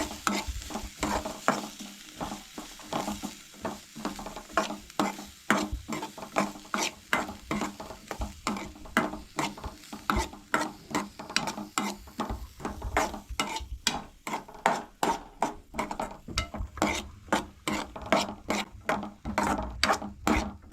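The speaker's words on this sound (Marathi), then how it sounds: "कांदो न्हय बरो परतून घेवंक जाय." Chopped onion sautéing in butter for pav bhaji, stirred with a fast, regular run of soft scraping strokes over a light sizzle, close but quiet and continuing steadily.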